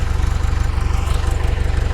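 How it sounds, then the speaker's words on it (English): An old farm tractor engine chugs close by in a steady, loud, rapid low throb with evenly spaced pulses and no voices over it. "we've had this tractor forever"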